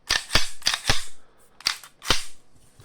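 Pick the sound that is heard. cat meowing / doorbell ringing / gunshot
gunshot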